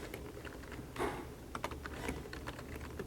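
Typing on a computer keyboard while writing an email, a steady run of light, quick key clicks with a few louder strokes, close and alone with no talk.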